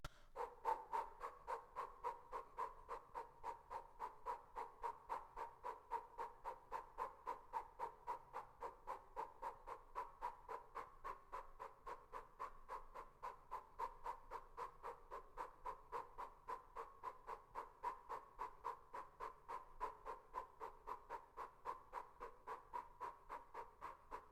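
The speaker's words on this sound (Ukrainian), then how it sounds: "Знайдіть свій комфортний темп і активно дихайте." Rapid, rhythmic breathing during a Kundalini yoga cleansing exercise, steady quick breaths repeating evenly for the whole stretch, soft and close with no voice over them.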